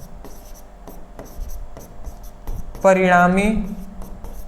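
Marker or chalk scratching on a classroom board in short rubbing strokes, close and clear, while a teacher speaks Hindi over much of it.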